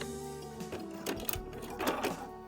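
A sewing machine stitches spring coat fabric in short bursts, its needle whirring and clicking up close, starting and stopping as it back stitches and finishes the seam.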